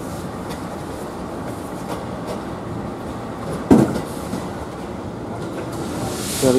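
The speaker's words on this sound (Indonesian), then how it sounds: "Akhirnya kereta elit Raja Jalur Utara keluar dari stasiun Jakarta Kota menuju ke stasiun Gambir." Elite passenger train on Indonesia's northern line pulling out of Jakarta Kota station toward Gambir, a steady low rumble of rolling cars with a brief louder clank midway and rising hiss at the end.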